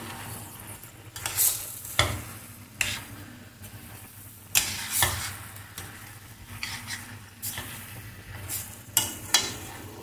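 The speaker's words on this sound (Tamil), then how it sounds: "ஒரு 2 நிமிஷம் நல்லா வதக்கி கொடுங்க." Chicken pieces being stirred and sautéed in a pan for a Tamil chicken kulambu curry: a steady sizzle with repeated scraping stirs and clatters of the utensil against the pan, close and continuous, with no talking.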